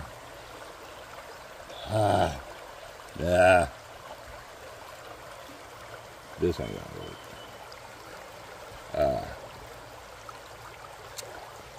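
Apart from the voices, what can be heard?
water running through a gold prospecting sluice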